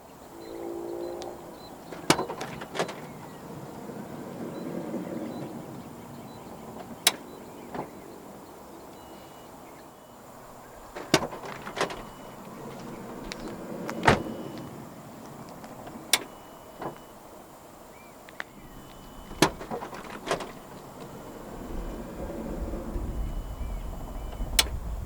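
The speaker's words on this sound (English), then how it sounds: "There are 4 ways to operate the powered sliding rear doors in this 2018 Odyssey." The powered sliding rear doors of a 2018 Honda Odyssey 2.4 EXV operate, with scattered sharp latch clicks and clunks spread over a longer stretch and soft motor whirs as the doors slide, fairly quiet with no talking.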